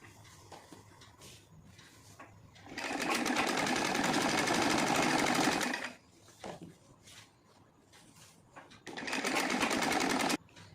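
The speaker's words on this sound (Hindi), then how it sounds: "इस साइड आना चाहिए अस्तर की तरफ, और इसके ऊपर से मैं एक सिलाई लगा लूँगी।" A sewing machine stitching saree silk fabric with its lining runs in two loud, fast, steady bursts, one of about three seconds and a shorter one near the end, with quiet handling noises between.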